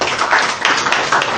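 Sustained clapping from a debate audience at a 2019 FCT political forum, dense and fairly loud throughout with a faint voice underneath.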